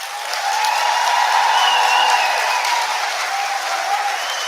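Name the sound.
applause for the teachers at graduation ceremony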